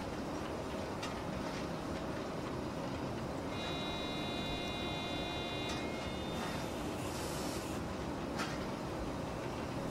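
Locomotive braking in Train Simulator 2022: a steady, loud rail rumble runs throughout, with a thin high brake squeal appearing midway and brief hissing bursts, and no voices.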